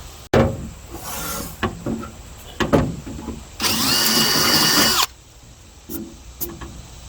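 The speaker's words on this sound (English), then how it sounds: "Let's go ahead and ream these out a little bit." Power drill reaming out holes in a jon boat's rear lid, one loud sustained whir of about a second and a half, preceded by scattered handling knocks and clatter.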